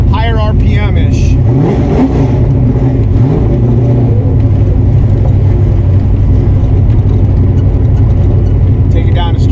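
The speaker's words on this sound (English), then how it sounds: "Yeah, that's Flowmaster right there, baby." A car fitted with a Flowmaster exhaust revs loudly and close, throttle blips rising and falling in quick sweeps before holding a raspy, steady growl, with a voice talking over the engine.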